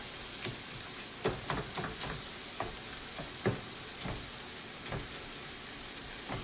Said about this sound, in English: I have 2 pounds of hamburger, 1 bell pepper chopped, and 1 onion chopped frying right now